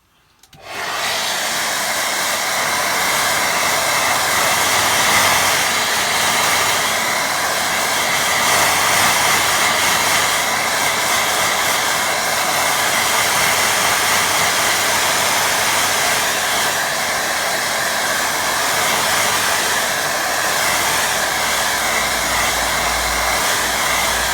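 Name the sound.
hair dryer drying a watercolour painting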